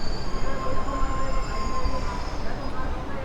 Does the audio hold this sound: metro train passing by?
yes